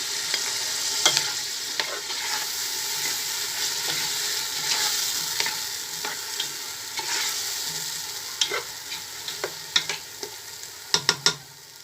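Carrots and green beans cook with tomato in a frying pan, sizzling steadily while a utensil stirs and scrapes through them, with sharp clicks and taps growing more frequent near the end; no voices.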